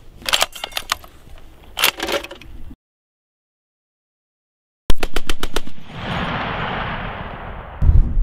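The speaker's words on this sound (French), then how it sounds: "la 12 c'est le calibre 50, c'est la grosse mitrailleuse qu'on vient de voir" A .50-calibre heavy machine gun fires in rapid, sharp bursts at an Army range: two short volleys, a stretch of silence, then another loud burst trailing into a rushing roar.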